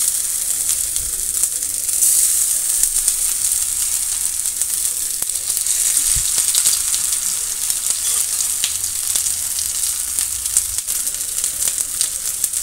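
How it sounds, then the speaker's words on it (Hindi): A semolina snack fries in a little oil on a low flame, a dense, even sizzle heard up close that holds steadily throughout, with no voices. "एकदम स्लो फ्लेम पे हम इसे करेंगे फ्राई, ताकि अच्छे से फ्राई हो जाए।"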